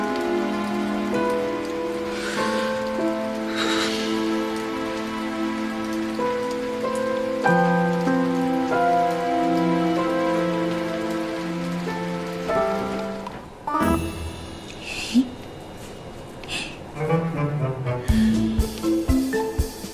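Steady rain patters on a surface for the whole stretch, mixed with sustained tonal sounds, and the texture turns busier and more uneven toward the end.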